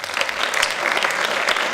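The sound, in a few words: audience applause for a gold medal winner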